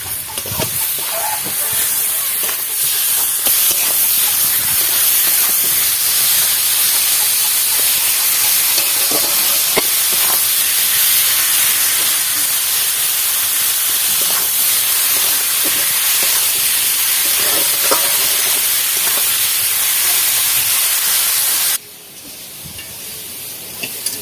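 Pona fish curry sizzling and hissing steadily in a hot pan as tomatoes go in, a continuous loud frying texture with faint stirring clicks, cutting off abruptly near the end.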